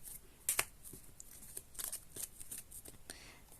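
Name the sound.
cards being handled while choosing vote cards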